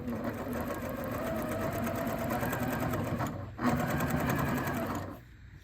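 Sewing machine stitching fabric for a pediatric port shirt, a steady close whirring hum running almost continuously, with a brief pause near the end as the needle stops.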